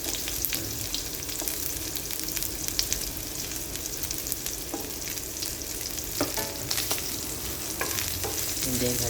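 Garlic, onion and ginger sauté in a hot pan for pork with kangkong, a loud continuous sizzle broken by scraping and clinking as a utensil stirs them.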